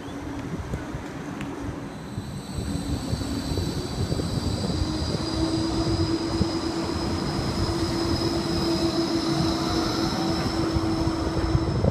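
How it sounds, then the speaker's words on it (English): A G-Link tram rolls into a platform at Surfers Paradise, a steady loud rumble with a sustained tonal whine building over twelve seconds, no talk. "tram number 5, arriving into platform 1."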